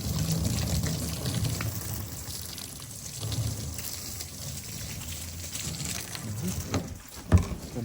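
Water spraying from a hose fed by a collected rainwater tank in a garden, a steady close hiss and splash running throughout with small shifts in flow and a brief knock near the end.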